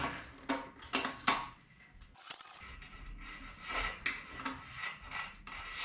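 Gritty, rasping grind of a dirt-fouled bicycle bottom bracket bearing turning, in repeated rough strokes with a brief clunk midway; close and fairly quiet.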